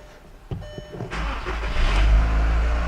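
A 2.0L VW four-cylinder engine, 1998–2005 Jetta, Beetle, GTI or Golf type, cranking and starting after a timing belt change, a chime and clicks before it catches, then settling into a loud steady idle close by.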